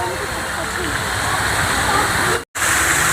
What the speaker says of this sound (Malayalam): നമ്മുടെ കിട്ടുന്ന സൗണ്ട് വെള്ളത്തിന്റെ സൗണ്ട് സൗണ്ടാണല്ലേ